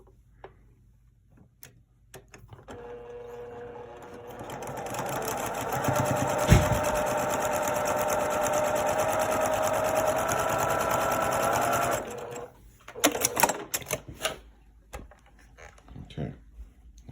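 A sewing machine runs steadily for about eight seconds, stitching a quarter-inch seam on a kaleidoscope quilt block. It is close and moderately loud, with faint handling clicks before and after.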